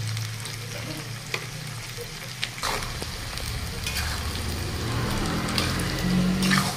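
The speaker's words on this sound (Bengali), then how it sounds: "দুই 3 মিনিট এই রসুনটা ভেজে নিলাম।" Garlic frying in a pan for pickle with salt and black salt: a steady, rain-like sizzle that grows slightly louder, with a few light clicks of stirring, near and continuous.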